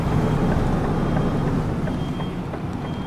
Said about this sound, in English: With a noisy truck.